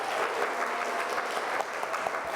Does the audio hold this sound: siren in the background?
no